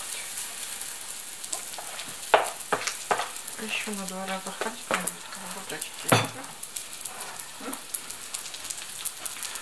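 Semolina pancakes fry in a pan with a steady close sizzle and crackle, broken by a few sharp utensil clicks, while a person speaks briefly over the cooking.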